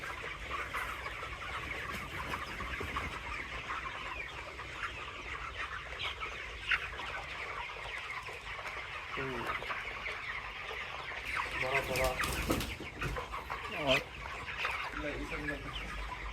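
Broiler chickens on a poultry farm cluck and squawk in a busy, continuous flock chorus after being startled by hand claps, with a few louder bursts near the end.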